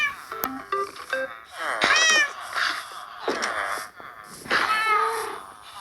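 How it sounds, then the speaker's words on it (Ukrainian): Several cats meowing close by in a series of short mews and longer drawn-out cries, some overlapping, with brief pauses between calls. "А я думаю, де в мами коти?"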